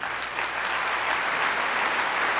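An audience applauds steadily and loudly, a dense wash of clapping that fills the whole stretch without pause.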